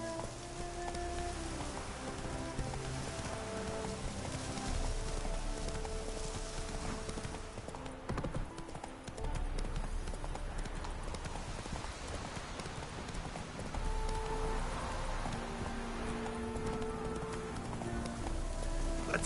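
Horse hooves clip-clop steadily as a rider gallops in The Witcher 3: Wild Hunt, the rhythmic beats layered over rain-like ambience and game music, loud and continuous throughout.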